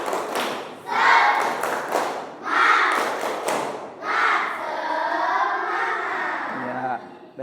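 A classroom of students does a spirit clap, tepuk semangat, in rhythmic bursts of clapping and thumping together with shouted chanting voices, three loud rounds, then a stretch of group chanting.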